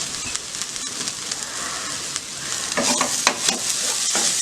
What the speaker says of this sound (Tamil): இடையில கிண்டிக்கங்க, சூரில் பிடிச்சிடாம.